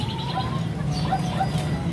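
A baby house sparrow gives thin, high chirps, several short peeps repeating irregularly close by over a low background hum.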